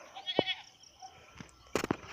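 A goat on a small farm bleats a few short times, faint and somewhat distant, with quiet rustling ambience between the calls.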